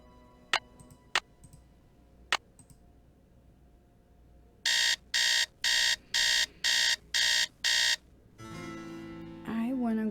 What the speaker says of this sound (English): So, alarm.